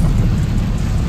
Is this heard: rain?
yes